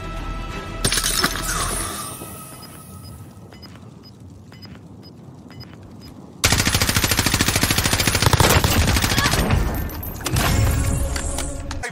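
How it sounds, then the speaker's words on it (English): Sustained automatic gunfire in Call of Duty: Warzone, loud and close, starting in bursts and then turning into a dense, unbroken stream of rapid shots, with a quieter stretch in between. "our guy here was just shooting into darkness and hoping for the best."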